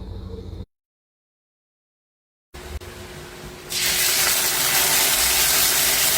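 Loud, steady hiss of an egg omelette with tuna, malunggay and shredded carrot sizzling in hot oil in a pan begins after a brief silence and continues strongly to the end, with no talking.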